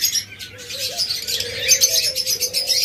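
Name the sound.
budgerigar chirping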